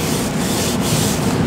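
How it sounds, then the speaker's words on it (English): A body brush rubbing steadily across skin in a spa setting, giving a continuous close, loud scratchy swish with no break and no talk. "a body brush, which can help drain your lymph system"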